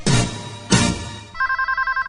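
In a radio advertisement, a telephone rings with a rapid trilling electronic bell in short repeated bursts, clear and close, following two louder thumping sounds.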